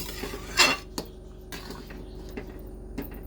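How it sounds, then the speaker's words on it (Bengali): A pot of khichuri is lifted off the stove, giving a sharp metallic scrape and clank followed by a few lighter knocks of metal against metal, close up in a quiet kitchen. "খিচুড়ি নামিয়ে নিই গরম গরম"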